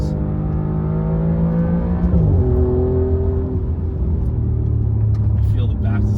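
An Alfa Romeo Giulia Quadrifoglio driven hard on a cold 44-degree day, its engine revving loud and close with a deep rumble and rising then shifting tones, while someone talks over it.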